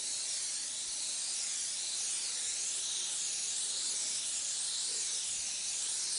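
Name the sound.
airbrush spraying Snow White Pearl paint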